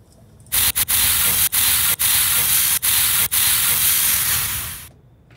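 The air brakes of a VDL Futura FDD2 double-decker coach in Fernbus Coach Simulator let out a loud, continuous hiss lasting several seconds, with a few brief dips before it tapers off.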